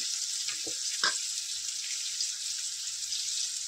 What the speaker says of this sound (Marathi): अशी ती सुद्धा परतून घेऊया व्यवस्थित